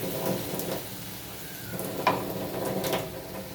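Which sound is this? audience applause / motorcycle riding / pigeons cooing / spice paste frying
spice paste frying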